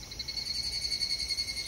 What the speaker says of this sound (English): These are really pretty cicadas. And their sounds certainly are very pretty as well.